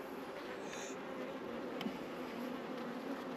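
Honeybees buzz steadily around a beekeeper at an open hive during a varroa treatment, a faint continuous drone close by with no talking.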